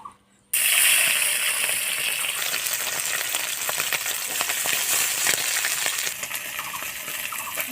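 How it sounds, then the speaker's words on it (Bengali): Fresh village pond fish spits and crackles loudly in hot oil after a brief quiet start, a dense close sizzle with sharp popping bursts throughout. "মাছের দেওয়া হয়ে গেছে তেলের মধ্যে"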